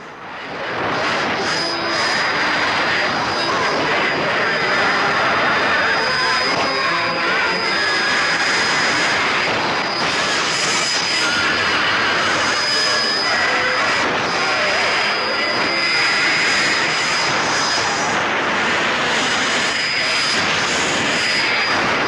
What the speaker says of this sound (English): There is still some noise, but it's nevertheless audible.